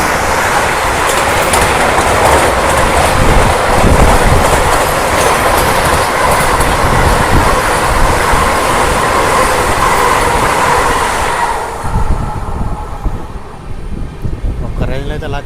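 Aboard the Secunderabad-Guntur Intercity SF Express as it runs on the rails: a loud, continuous rumble with rhythmic clickety-clack of the wheels, which eases to a lighter rattle toward the end.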